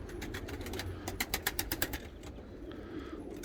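Pigeons in a loft of tumbler birds give soft, low coos, faint and close, while a quick run of sharp, fluttering claps, likely wingbeats, rises briefly in the middle.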